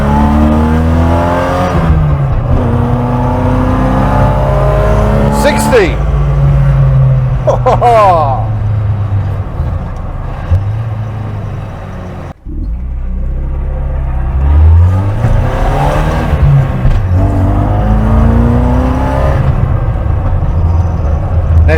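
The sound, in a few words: Opel Manta B2 16v car accelerating hard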